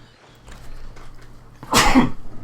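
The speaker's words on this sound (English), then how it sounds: "It's just so typical that I'd need to sneeze." One close, loud sneeze bursting out suddenly after a short breathy build-up, followed by a brief trailing exhale.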